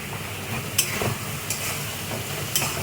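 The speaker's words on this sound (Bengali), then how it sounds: "মশলাটা খুব ভালোভাবে ভেজে নিতে হবে" Spice paste with garlic and mustard frying in oil, a soft steady sizzle with a few sharp scraping stirs of the spoon against the pan, close and fairly quiet.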